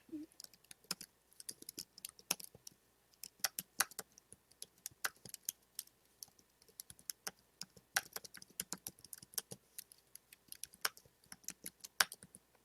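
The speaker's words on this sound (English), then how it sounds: "And now I can type" Typing on a computer keyboard while working in a shared Microsoft Word document: quick, irregular bursts of light key clicks and taps, close and fairly quiet, with no talking.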